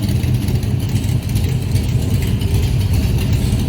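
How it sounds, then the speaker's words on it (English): A 1965 Shelby Cobra's engine idles after a cold start, a loud, steady low rumble with a slightly uneven lope, close by and alone. "That's a cold start, and she's ready to go."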